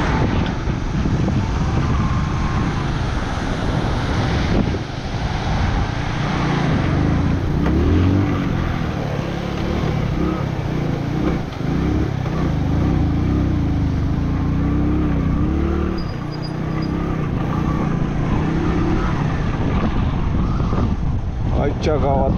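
A car grinding through a water crossing in Ladakh's mountains toward Himachal Pradesh, loud continuous engine and splashing rumble with wind buffeting the microphone, and a person talking over it.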